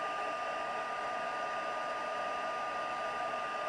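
A hair dryer blows steadily to dry a painted misted background, a continuous even whirring hum, close and unbroken from start to finish.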